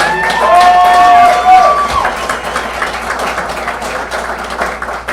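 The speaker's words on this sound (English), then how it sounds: "Let's have a round of applause for" Crowd clapping and cheering at an awards event, loud at first with a bright whistle or cheer near the start, then a looser mix of claps and crowd noise.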